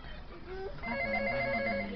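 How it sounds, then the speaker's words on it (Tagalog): A telephone rings in a room, its steady electronic ringtone entering partway through and holding loud over a low background murmur; the ringing follows a quieter stretch and continues to the end. "Oops, nag-ring yung telepono."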